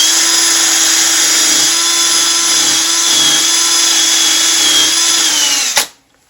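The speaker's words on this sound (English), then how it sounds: "The next process I use is a buffing wheel." A buffing wheel loaded with white diamond compound polishes a turned wood piece, giving a loud, steady motor whine that runs evenly, then cuts off and spins down near the end.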